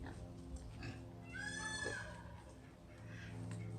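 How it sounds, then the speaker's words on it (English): A male pig at a zoo grunts and oinks while eating a carrot, making close, rough snorts with one louder squealing grunt in the middle over low background noise. "Here are some of our beautiful male pigs."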